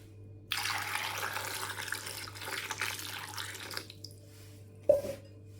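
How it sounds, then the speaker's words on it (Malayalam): Lemons washed under a running kitchen tap: a steady, close stream of water splashing for about three seconds, then it stops, and a single sharp clink follows. "നിറയെ വെള്ളം ഒഴിച്ചിട്ട് നന്നായി കഴുകി കൊടുക്കുക"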